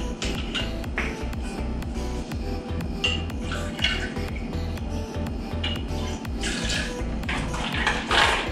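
Rye or bourbon poured into a bar beaker over muddled bitters for an Old Fashioned cocktail, a steady close liquid trickle with occasional glassy clinks over a low background hum, no talking.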